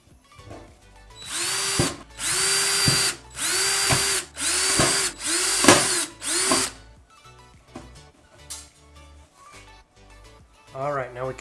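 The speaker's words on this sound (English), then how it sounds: "So now we're going to use the same 1/8 drill bit and just drill these five out." A power drill fitted with a 1/8 bit drills out rivets on a Dell OptiPlex computer case, giving about six loud whining bursts of a second or so each, separated by brief pauses, followed by quieter tool handling and a short final whir.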